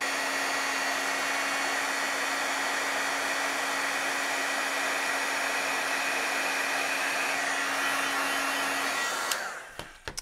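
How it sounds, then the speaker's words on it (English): An embossing heat tool runs close and steady, a continuous blowing whoosh with a fixed motor hum lasting about nine seconds before it cuts off, followed by a few small clicks and handling sounds. "Now I'm gonna get my heat tool warmed up."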